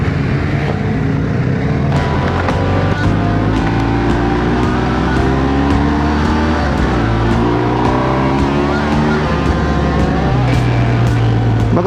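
A motorcycle with a large windscreen rides along a road, its engine droning loud and close throughout, with rising pitch sweeps as it accelerates through the gears.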